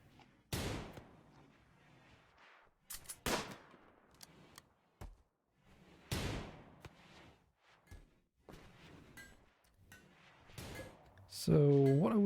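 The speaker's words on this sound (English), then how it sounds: "These guys are so good at shooting." Gunshots ring out as colonists fire weapons in the heavily modded video game RimWorld, a few sharp loud bangs spaced irregularly over the span, with a voice talking between and over them.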